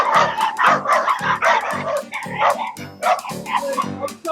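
A 140-pound bull mastiff barks in a steady series of loud, deep woofs about every half second, close by and dominating the scene with no talk over it.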